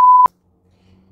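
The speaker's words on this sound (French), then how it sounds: "Bip! Je fais bip tout de suite." A single loud censor bleep, a pure steady tone lasting about a quarter second, cut off sharply and followed by near silence with faint low murmuring.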